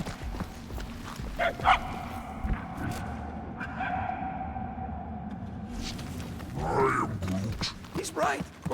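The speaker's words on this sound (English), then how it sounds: "The barking is getting fainter." A dog barks in the Marvel's Guardians of the Galaxy video game, a few distant, faint yelps set against a steady game ambience, with voices talking over parts of it.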